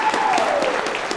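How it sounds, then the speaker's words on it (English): Wedding guests applaud the couple, a dense burst of crowd clapping, loud and close, with a faint voice briefly under it. "You need to turn and get a round of applause for how unbelievably beautiful"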